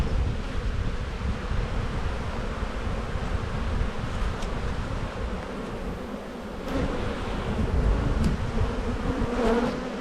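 Honey bees buzz around an open Australian backyard hive during a frame inspection, a dense steady hum of many insects close by, with occasional individual bees droning near the microphone and no speech.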